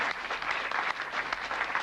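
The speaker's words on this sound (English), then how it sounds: "Nice round of applause." In a working men's club, a small audience gives a brief, moderately quiet round of clapping for an arriving guest, the individual claps loosely audible and evenly sustained.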